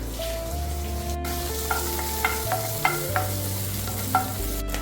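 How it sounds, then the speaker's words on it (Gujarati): Cumin seeds, green chilies and curry leaves crackle in hot oil, a steady close sizzle with scattered sharp pops and spatters and some stirring throughout, no voices. "આપણું તેલ ગરમ થઈ ગયું છે થોડું જીરું એડ કરવાનું છે થોડા લીલા મરચાં એડ કરશું લીમડાના પાન એડ કરશું"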